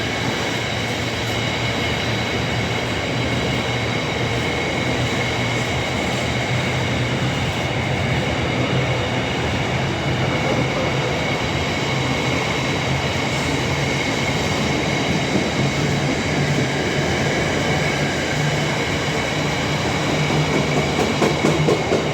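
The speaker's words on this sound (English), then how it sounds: "look at that cross-country 170 there." A CrossCountry Class 170 diesel unit with a flat wheel rolls past at Nuneaton, a steady loud rumble and rail clatter sustained throughout with a rhythmic thumping from the flat wheel, and no voices.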